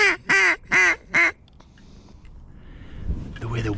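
Pair of mallard ducks quacking outdoors during a late-season Idaho storm hunt, four loud, clear quacks in quick succession, then wind and faint background noise.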